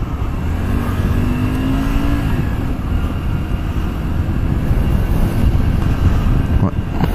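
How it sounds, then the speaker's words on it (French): A Honda Varadero 125 motorcycle engine idles steadily with a low rumbling throb, mixed with wind buffeting the microphone throughout. "Et le moteur, il respire à la santé comme un..."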